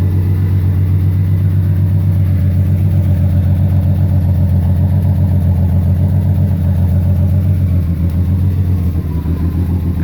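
A 1971 Dodge Dart's old slant six engine, a long-stored original barn find, runs steadily up close with a deep, even rumble and a slight change in tone near the end; no one speaks.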